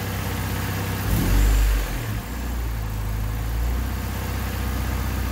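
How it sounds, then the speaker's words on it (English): A Honda D16Y8 car engine idles steadily with a low, even rumble after an idle fault was fixed, briefly revving up once before settling back to a smooth idle. "Seems to be idling better as well."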